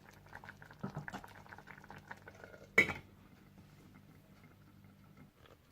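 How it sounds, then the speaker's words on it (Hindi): Plum chutney with almonds simmers on very low heat, giving a soft bubbling and plopping, with one brief clink of a utensil against the pot partway through, before it fades to a quiet hum. "और 2 से 3 मिनट के लिए बिल्कुल हल्की आंच पर दम लगा दें।"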